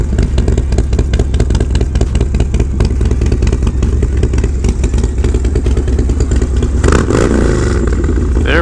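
A 2006 motorcycle engine running loud and close throughout, a steady rumbling idle with repeated throttle blips that swell into a brief harder rev near the end.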